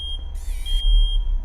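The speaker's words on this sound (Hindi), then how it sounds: "4:38 का अलार्म है।" Short electronic alarm beep in a ghost-hunting horror video game, a single clear tone of under half a second over a low background hum.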